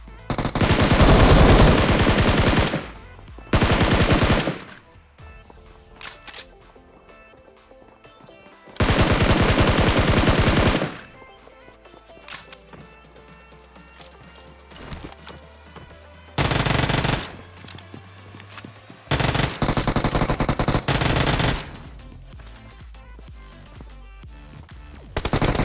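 Loud automatic gunfire during a solo-versus-squad fight in PUBG Mobile, with several sustained bursts of rapid shots between quieter gaps and occasional single distant pops.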